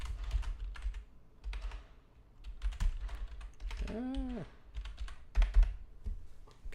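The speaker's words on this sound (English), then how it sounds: "Just typing." Fast, irregular clicking of keys on a computer keyboard, close and fairly quiet, in short bursts with brief pauses and a short murmured vocal sound in the middle.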